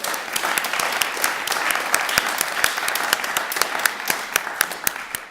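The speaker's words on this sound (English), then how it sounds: "So just a round of applause." Steady applause from an awards ceremony audience, dense rapid clapping that holds at an even level throughout.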